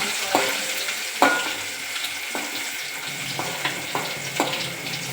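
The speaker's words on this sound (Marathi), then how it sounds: "थोडी म्हणजे एक चिमटीभर चिमटभर आणि पुन्हा असं परतून घ्यायचं" Legumes being sautéed in a pan with a steady hiss of frying and a spoon scraping the pan in a run of sharp, evenly spaced strokes, close and fairly loud, with no voices.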